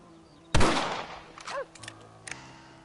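A single loud rifle shot cracks out in the Red Dead Redemption video game, with a sharp burst followed by a brief ringing tail and a few smaller clicks and thuds afterward.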